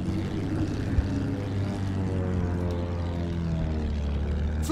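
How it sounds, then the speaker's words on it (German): An enemy propeller aircraft in Battlefield 1 drones past with a steady, throaty engine roar whose pitch slowly falls, holding loud throughout the clip without speech. "Feindliches Flugzeug gesichtet."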